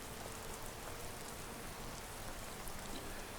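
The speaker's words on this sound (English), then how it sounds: "Because it's raining and I don't like getting wet." Steady rain in the Skyrim VR video game, a continuous broadband hiss of falling drops that holds at an even level throughout, with no talking over it.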